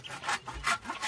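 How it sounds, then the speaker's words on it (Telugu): Wooden stick being carved with a blade to shape a chicken perch, a few rough rasping strokes close up, each short and scraping, with no talk. "ఇట్లా చెక్కాలి కదా, చెక్కితే కాళ్ళు అనేది పట్టు మంచిగా ఉండి జారిపోవు"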